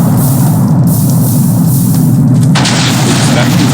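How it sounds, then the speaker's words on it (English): An exploding block going off in Minecraft, modded with MCreator: a loud, continuous low booming rumble fills the whole stretch, with a brighter hiss rising near the end and no speech. "and now the exploding block."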